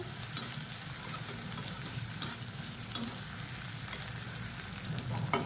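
Turkey berries (sundakkai) sautéing in oil in a pan, a dense continuous sizzle with small crackles and occasional stirring scrapes, close and even in level, with nobody speaking.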